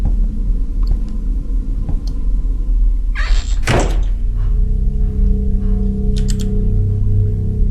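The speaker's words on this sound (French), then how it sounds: "C'est quelle porte qui bouge?" A door moves in a horror video game, a heavy sliding thud with a rumbling scrape in the middle over a constant low ambient drone.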